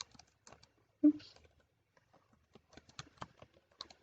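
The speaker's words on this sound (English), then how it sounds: "We're trying to type with an elevated keyboard." Scattered clicking keystrokes on an elevated computer keyboard in a lecture setting, irregular taps in small bursts with a brief thump and a quiet voice near the start.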